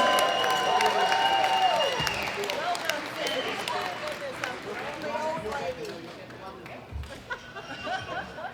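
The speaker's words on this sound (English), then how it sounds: "Big round of applause for Sandra Simmons" Audience applause for powerlifter Sandra Simmons at a world classic powerlifting championship. Scattered clapping and crowd noise in an arena mix with chatter and an announcer's voice, fading toward the end.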